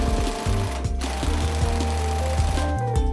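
Impact wrench hammering away while pulling a front wheel bearing on a Toyota JZS160/JZS161 GS300 Aristo, a loud continuous buzzing rattle with brief pauses between bursts.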